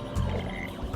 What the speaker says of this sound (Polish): Tym razem są żaby.